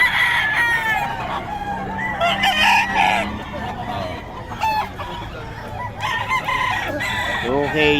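Roosters for sale at a market in Bocaue crow several times in overlapping calls, with clucking around them and voices chatting nearby.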